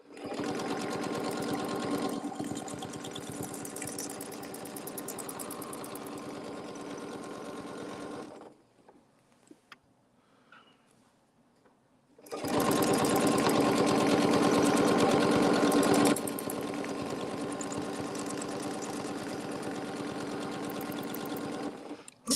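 Artisan Curve sewing machine stitching steadily at speed, a loud continuous motor hum with rapid needle rhythm, stopping for a few seconds of near-quiet before a second long run of stitching.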